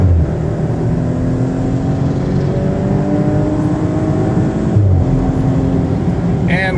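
Maserati Ghibli S Q4 accelerating on a highway toward 60 mph, a loud steady engine drone with rising tones and a brief gear-shift dip, tire and road noise beneath, with someone talking briefly near the end.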